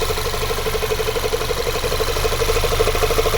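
A 2008 Audi A3 with a 1.8 petrol engine and automatic gearbox idles up close, a steady low mechanical hum with a faint rhythmic pulse and no voices.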